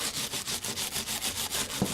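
A wire brush scrubs decorative lead came on a stained glass window in quick, regular back-and-forth strokes, about ten close, scratchy rasps in two seconds.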